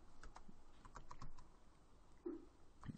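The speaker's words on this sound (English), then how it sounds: "just select that adjustment layer and then press enter on the keyboard" Keys tapped on a computer keyboard during photo-editing work, a few light clicks scattered across the moment, with a firmer single key press near the end, close and quiet.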